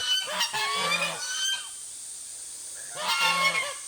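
Geese honking inside a chicken coop, two bursts of loud nasal honks close by, separated by a short quiet gap.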